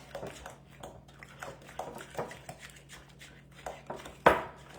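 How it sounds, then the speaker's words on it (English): Cream cheese being broken up and mixed in a bowl for buffalo chicken dip, with soft repeated scraping and tapping strokes, close and quiet, ending in one sharper clink. "I'm gonna continue to break up that cream cheese."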